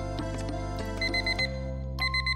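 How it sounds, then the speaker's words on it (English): Beeping alarm clock in the Purrfect Date video game: a catalog device gives bursts of quick electronic beeps over a steady tonal music bed, with two clear beep runs in the second half. "Catalog starts beeping."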